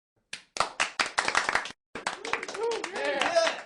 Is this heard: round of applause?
yes